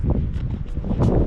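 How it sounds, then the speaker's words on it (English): Steady wind buffeting on a mountain ridge in the Presidential Range, a continuous broad rush with gusty swells throughout, close and loud on the microphone. "Yeah, it's windy, but it's actually quite lovely."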